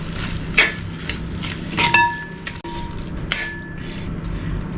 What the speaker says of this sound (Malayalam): ഇനി ഇതിലേക്ക് 2 വലിയ സ്പൂൺ തൈര് ചേർക്കുന്നുണ്ട്.